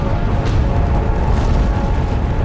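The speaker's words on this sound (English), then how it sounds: "It releases millions of tons of magma in a colossal explosion." A colossal volcanic eruption explosion at Mount St. Helens, heard as a loud, continuous, deep roaring rumble with a sharper burst near the start, filling the whole stretch without voices.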